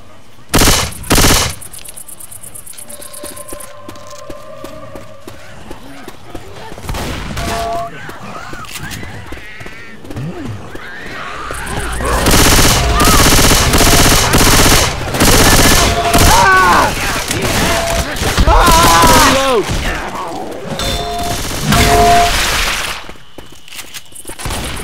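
Loud, sustained automatic gunfire and scattered single shots from weapons in the zombie shooter Left 4 Dead 2, building into dense rapid bursts over the second half, with voices talking between volleys.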